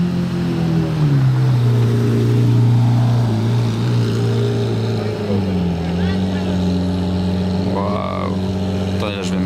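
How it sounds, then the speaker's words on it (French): A Lamborghini Murcielago V12 idles with its vents open, a deep steady rumble heard up close, its pitch dipping slightly and settling, with a brief higher sound near the end. "Là le V12 de la Murcielago, on l'entend de très loin, on le reconnaît de très loin surtout. Là sur ralenti, là vous entendez peut-être."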